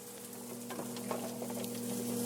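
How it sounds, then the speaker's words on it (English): Garlic sizzling in a stir-fry pan over medium heat, a soft steady frying hiss with faint crackles, under a constant humming kitchen fan. "So we'll throw in our garlic"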